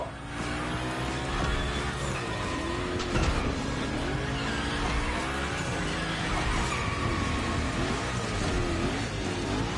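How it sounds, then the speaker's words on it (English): Unicorn car in The Crew Motorfest throwing big gymkhana slides, a loud engine rising and falling through repeated revs with tire squeal and skidding noise throughout, no voices. "we're gonna rough up the Unicorn a bit. We're focusing on Gymkhana essentials, big slides and precision"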